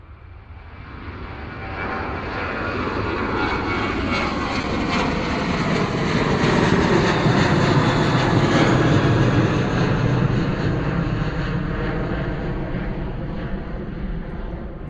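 An airliner in a .com livery takes off down runway 09 at Bristol Airport, bound for Mahon; a loud, sustained jet engine roar swells and holds steadily for several seconds, then begins to ease slightly.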